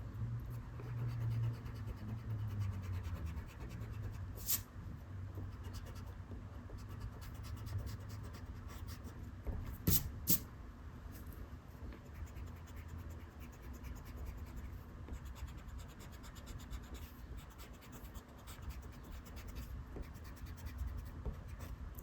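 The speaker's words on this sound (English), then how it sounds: "Time to erase that out." A pencil drawing is rubbed out with an eraser, a quiet, steady, close scratching and rubbing that goes on throughout, with a few sharper taps.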